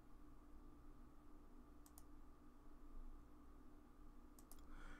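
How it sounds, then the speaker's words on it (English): Quiet left mouse clicks during CAD drawing work in Onshape, two short pairs of clicks about two and a half seconds apart over a faint steady background hum. "Just doing a bunch of left mouse clicks."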